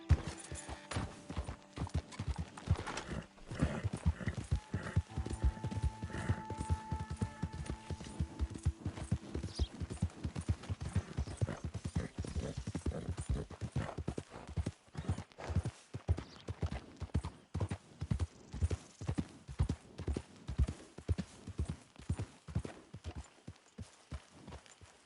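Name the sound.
horse galloping, Red Dead Redemption 2 video game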